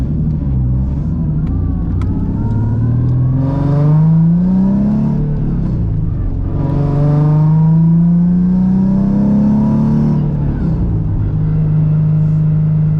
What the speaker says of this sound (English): Transmission is noisy.